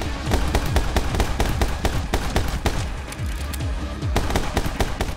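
Rapid gunfire from the side-scrolling shooter My Friend Pedro, a dense, steady stream of sharp close shots crackling in quick succession for several seconds, loud and nearly continuous.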